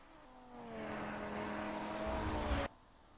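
Racing car engine in a sim racing video game at Imola, a single car revving up and holding a high, whining pitch for about two seconds before cutting off abruptly, moderately loud with no talk.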